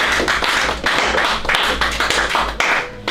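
A church congregation applauding, with dense, steady clapping close by that fades slightly at the end.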